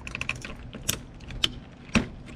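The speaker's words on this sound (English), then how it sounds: "I don't know how these keys are gonna come off" Plastic keycaps pried off an Amiga 4000 keyboard, a few sharp isolated clicks and snaps spaced apart over a light mechanical rattle, close and moderately loud.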